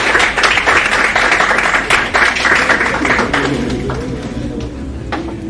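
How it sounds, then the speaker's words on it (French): Audience claps for a team at a quiz game show: close, fairly loud applause with distinct individual hand claps audible in the mix, gradually thinning out toward the end. "Applaudissez pour l'équipe."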